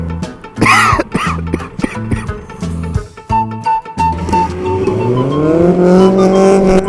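Bugatti car engine revving loudly in a game, with sharp throttle blips, then a rising acceleration whine that climbs steadily toward the end.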